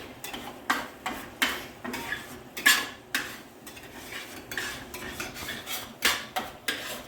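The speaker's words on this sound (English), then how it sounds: "So we're just basically doing a scrambled egg." Eggs being scrambled in a pan for fried rice, a utensil scraping and tapping against the metal in irregular, close strokes with clinks of cookware, no talking.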